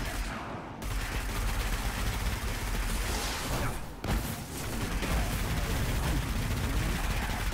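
Sustained gunfire from the Destiny video game fills the scene, a dense, loud barrage with a brief break near the middle before the shooting resumes at full intensity.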